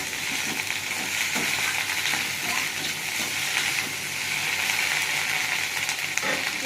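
Okra and potatoes with onion and green chilli sizzle steadily in a pan, a loud continuous crackling hiss with occasional soft stirring scrapes, no voices.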